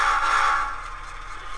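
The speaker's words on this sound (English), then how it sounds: "And our default air horn." A Tsunami2 TSU-N18 DCC sound decoder in a Walthers Proto 2000 SW1200 model locomotive sounds its default air horn in one short, reedy blast that fades into a lower hum.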